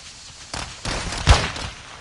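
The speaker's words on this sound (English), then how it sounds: "They're shooting at me." A few enemy gunshots crack out in a video game, three or four quick, mid-distance bursts spaced about half a second apart over a quiet background.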